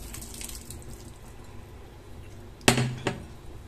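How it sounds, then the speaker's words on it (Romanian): Chickpeas tipped into a simmering pot of chickpea and potato stew, giving a sudden loud clattering splash at the end followed by a second smaller clatter, after a stretch of quiet kitchen background. "Acum voi adăuga și năutul."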